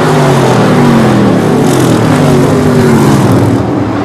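Small block super modified race cars roar around a short oval track at Lee USA Speedway, a loud, dense engine howl that holds steady and shifts slightly in pitch as the cars pass close by.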